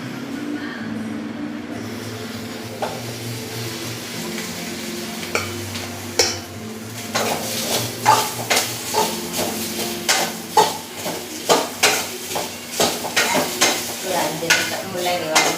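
Radish pieces sautéed in a pan for sambar, starting quiet, then a rhythmic run of scraping stirs and clatters over a light sizzle that grows busier and louder.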